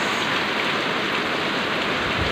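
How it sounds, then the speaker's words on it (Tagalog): Heavy rain pours down in a dense, steady roar with no break, close and loud, with no voices. "Ang lakas ng ulan. Lakas ng ulan, guys."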